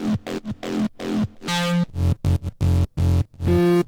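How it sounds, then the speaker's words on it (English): Short, punchy synth bass notes play in a choppy rhythm, with clean gaps between them, each tone round and mid-heavy, without any voices. "I have 2 mid basses sounding like this"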